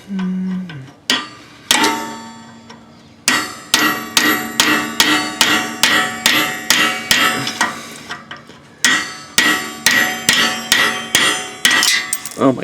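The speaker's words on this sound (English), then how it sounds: "you just give it a good whack with a heavy hammer. So I'm going to use my little 2-pound sledge" A heavy 2-pound sledgehammer strikes a punch to drive out a Honda shift linkage pin, giving sharp ringing metallic clangs, a few spaced blows then rapid regular strikes with a pause in the middle, loud and close.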